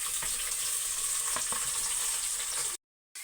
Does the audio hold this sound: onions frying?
yes